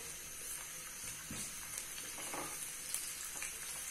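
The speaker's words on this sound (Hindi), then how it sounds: "इसको हमने फ्राई कर लेना है।" Chopped small onion frying in three to four tablespoons of oil in a small pan, giving a steady soft sizzle and hiss that runs throughout, fairly quiet with faint stirring clicks and no talk.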